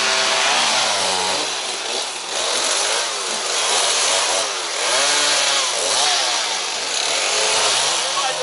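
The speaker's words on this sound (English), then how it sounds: "This is the Chainsaw Orchestra." A chainsaw roars close by while felling trees, its engine rising and falling in pitch as it bites into wood, continuous and loud throughout.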